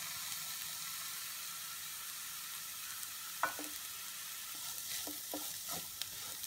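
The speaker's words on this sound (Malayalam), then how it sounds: "നമ്മൾ മാറ്റി വെച്ചിട്ടുള്ള ചിക്കൻ ഇതിലേക്ക് ആഡ് ചെയ്തിട്ട് നല്ലോണം ഒന്ന് ഇളക്കി കൊടുക്കാം" Chicken filling for Malabar madakku pathiri fried and stirred in a pan, with a soft steady sizzle and a few quiet scraping clicks of the spoon later on.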